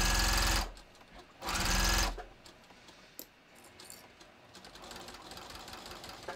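A sewing machine runs a deeper seam across the bottom of a bathrobe in two loud, close bursts of rapid stitching, followed by quieter handling clicks and faint rustling.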